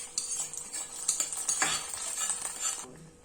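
Cashews and raisins fried in ghee are stirred in a hot pan with a utensil, giving steady scraping and clinking over a soft sizzle, close and moderately loud, with no talking.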